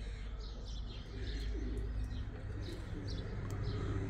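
Pigeons coo softly at a pigeon loft on a foggy morning, with scattered chirps and a faint wing flutter over a steady low background rumble, with no talk.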